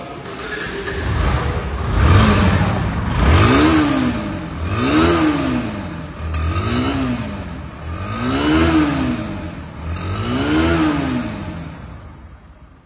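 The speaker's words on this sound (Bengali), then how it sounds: "বাইকটির ইঞ্জিনের সাউন্ড একদম মিষ্টি এবং শোরুম বরাবর সাউন্ড আছে" A Bajaj Pulsar NS 160 motorcycle revs its engine repeatedly, about five rising-and-falling throttle blips in a steady rhythm, loud and close with no talking.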